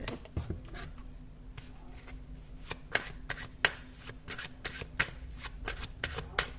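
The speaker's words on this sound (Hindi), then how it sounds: "कुछ कार्ड्स मैं और निकालना चाहूंगी।" Tarot cards shuffled by hand in a quiet room, a steady run of soft riffling flutters broken by sharper snaps and taps as the deck is bridged and squared, heard alone at close range.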